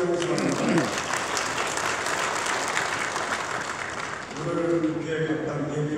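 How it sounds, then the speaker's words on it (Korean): Audience applause at a Korean Christian church gathering honoring invited guests, a steady broadband wash of clapping filling the room throughout, with voices and a tonal hum heard beneath it. "박수로 감사합니다"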